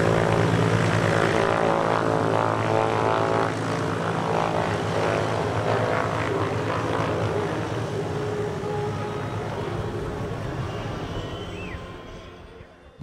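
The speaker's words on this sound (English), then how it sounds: "The fleet of this faculty consists of several aircraft types, including the Piper PA-44 and Cessna 172 you see here" A propeller aircraft, a Piper PA-44 or Cessna 172, drones loudly at an air show with a steady engine hum that slowly fades toward the end.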